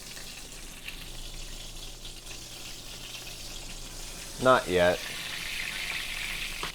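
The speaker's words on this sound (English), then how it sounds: "I've really been enjoying this cast iron skillet for frying stuff" Buttermilk-battered fried chicken clusters sizzle steadily in a hot cast iron skillet, a constant soft crackling hiss, with a person briefly speaking over it partway through.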